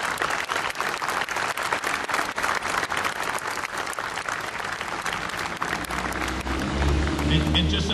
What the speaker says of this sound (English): Let's give the citizens of Centralia a big round of applause.